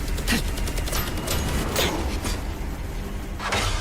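Gunfire in an anime fight scene: a few sharp broadband bursts spaced a second or so apart over a dense, rumbling action backdrop, moderately loud, with no speech.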